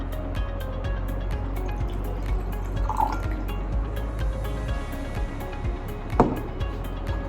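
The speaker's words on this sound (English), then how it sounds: "first we add on 50 ml of water" Distilled water poured into a glass beaker during a school chemistry activity, a steady close trickle with small drips and a brief splash near the end, heard alone.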